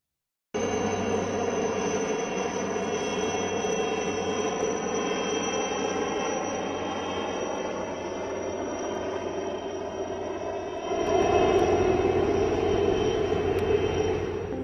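Search helicopters fly over the sea at Murud beach in Raigad. The engine and rotor drone is steady and loud for the whole stretch and swells slightly near the end, with no voices.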